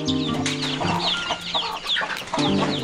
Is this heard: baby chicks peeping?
yes